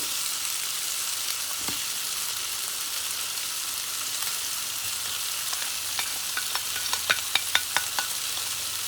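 Sausages browning in a Tefal electric slow cooker, a soft steady sizzle with a few sharp clinks of a plastic-coated spoon stirring toward the end.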